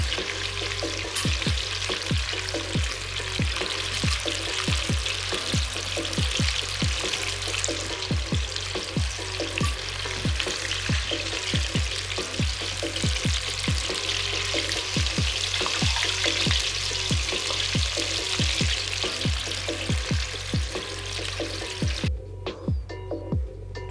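Alligator pieces frying in hot oil being cooked golden brown, a steady loud sizzle and crackle with a regular series of sharp taps running through the whole stretch, no talking.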